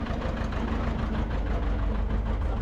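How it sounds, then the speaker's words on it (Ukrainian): A tractor fitted with a homemade parallel-driving navigation system rolls along with its engine running, a steady, loud low rumble and knocking idle-like drone throughout with no talking. "трактор, як бачите, їде сам"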